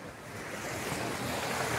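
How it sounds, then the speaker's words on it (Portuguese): A polluted river flows under a footbridge, a broad steady rushing of water mixed with wind buffeting the microphone, continuous and fairly loud with no voices. "Vou gravar aqui o rio aqui."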